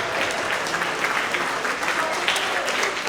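A school assembly crowd of middle schoolers claps steadily for an award winner, a continuous dense patter with a few voices mixed underneath.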